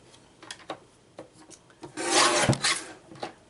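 A paper sheet for a card kit is trimmed in a few short scraping strokes, quiet at first and then a louder rasping cut near the end, close and with no talk.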